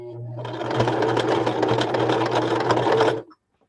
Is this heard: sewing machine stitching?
yes